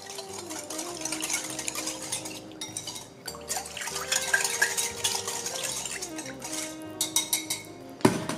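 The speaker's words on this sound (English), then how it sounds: "Let's give this a good mix here." Vinegar, sugar, sesame oil, tapioca starch and mushroom seasoning being stirred together into a sauce, with steady scraping and clinking of a utensil against a bowl, fairly close and continuous, with no one speaking.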